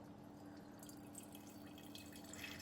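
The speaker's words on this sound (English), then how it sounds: "And go ahead and dispense." A HydroFast C100 water filter dispenses cold water in a steady, quiet stream with faint dripping over a low, constant machine hum.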